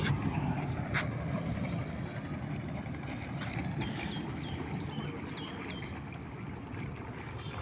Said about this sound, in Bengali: এই যে লঞ্চটা বিশাল একটা লঞ্চ আসতেছে দেখুন